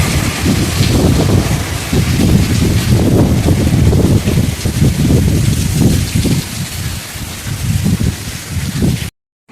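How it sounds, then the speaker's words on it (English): Hurricane Melissa's wind and rain roar steadily at dawn, a dense, loud rush with gusty low buffeting against the microphone, continuous and unbroken until it cuts off near the end. "And that's the kind of wind that we're experiencing."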